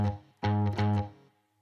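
Two short, clipped blues-shuffle notes on an electric guitar, tightened by releasing the fretting finger right after each pick, sound close and clean, then die away quickly with no speech.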